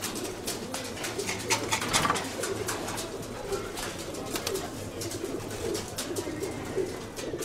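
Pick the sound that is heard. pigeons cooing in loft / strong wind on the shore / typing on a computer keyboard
pigeons cooing in loft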